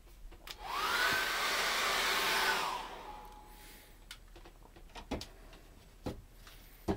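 A hair dryer blows on layers of acrylic paint, a loud steady whoosh lasting about two seconds before it cuts off, leaving quiet room tone with scattered light taps and knocks.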